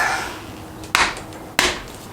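Two sharp metallic hammer blows strike a part on a neglected CF500 quad, spaced about half a second apart and close up, over a faint background hiss.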